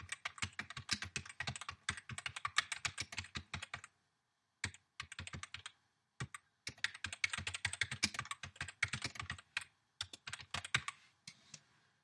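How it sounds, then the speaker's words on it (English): Fingers type on a computer keyboard during web design work, producing fast, close clattering bursts of keystrokes with a brief pause midway, then more steady typing. "I can't talk and type at the same time"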